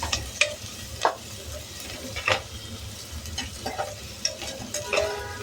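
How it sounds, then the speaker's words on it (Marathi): Onion sautéed in a hot pan, a continuous close sizzle broken by repeated sharp scrapes and clinks of a spatula stirring against the metal, with no voices. "छान कांदा परतून घेऊ आपण."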